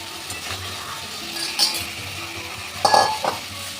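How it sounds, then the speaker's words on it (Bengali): Catla fish pieces go into a yogurt masala in a pan and are stirred, with a soft sizzle under a few sharp clinks and scrapes of a utensil against the pan. "এবার দিয়ে দিচ্ছি মাছ"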